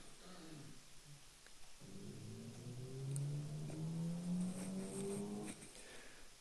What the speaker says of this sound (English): the sound corresponding to an accelerating engine car